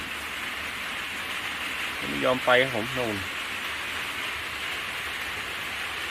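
Steady rain falls on a small forest hut at night, a constant hiss running through the whole stretch while someone speaks briefly in the middle.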